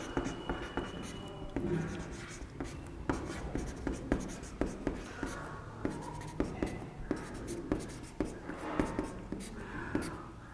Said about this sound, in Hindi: गैलीलियो का प्रयोग लिखते हैं पहले।